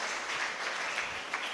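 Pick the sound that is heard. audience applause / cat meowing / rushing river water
audience applause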